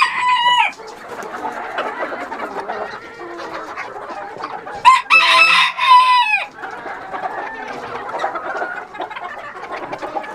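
Chickens pecking at scattered corn in winter cluck busily and close by, while a rooster breaks in midway with a loud crow before the steady clucking resumes.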